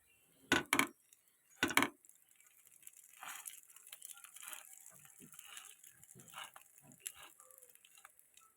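A fork presses into rolled aloo paratha dough, opening with two sharp metallic clicks and then a run of soft, muffled taps and light crunching close by.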